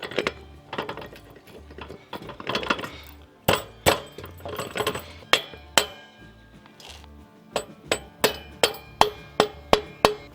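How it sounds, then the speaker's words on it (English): Hammer tapping a bolt through on a Coleman BT200X mini bike: a run of sharp metallic strikes, loose at first, then settling into a steady, evenly spaced series of loud taps, close up and without talk. "Just until my bolt starts to pop through the other side, tap it on home."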